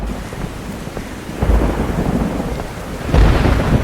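Cartoon thunderstorm with steady heavy rain throughout and low rumbling thunder swelling twice, loud and close, with no voices.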